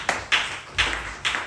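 Church congregation clapping for the Lord during a Sunday service on baptism: four sharp, loud claps in unison, spaced in an uneven rhythm with brief quiet between them.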